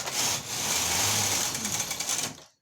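A sewing machine stitches the gathered portion of a baby frock, running in one steady, fast, loud burst for about two and a half seconds before stopping.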